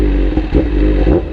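A superbike with a light clutch revs under riding load, its engine note rising and falling in short uneven surges over a low, steady drone, with some mechanical clatter, close and loud.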